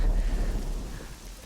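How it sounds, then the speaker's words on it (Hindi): Heavy rain with a low thunder rumble in a Hindi-dubbed South Indian horror thriller film, a dense loud wash that fades slightly over a second and a half, no voices. "बारिश शुरू हो गई।"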